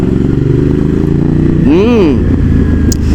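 A motorcycle engine drones loudly up close while riding, with another vehicle sweeping past and rising then falling in pitch.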